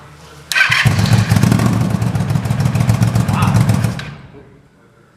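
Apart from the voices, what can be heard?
Yamaha G1 golf cart engine running without mufflers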